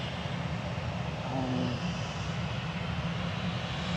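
Qatar Airways airliner engines at Manchester Airport, a steady low rumbling drone held at even loudness throughout, with a faint tonal whine rising briefly in the middle.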